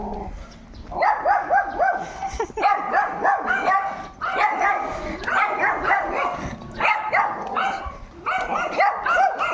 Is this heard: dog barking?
yes